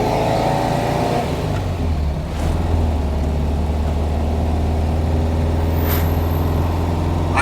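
The air-cooled engine of a 1971 VW Type 3 Squareback pulls hard in third gear, a loud, close, rising drone with a steady rumbling buzz throughout.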